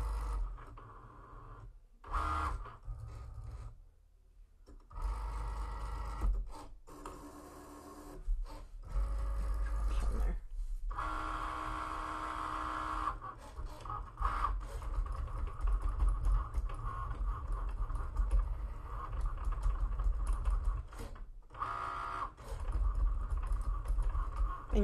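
A Cricut Explore cutting machine cuts waterslide decal items for a fall shadow box one by one. Its motor whirs and buzzes in repeated runs, broken by short silent pauses as the carriage moves between pieces.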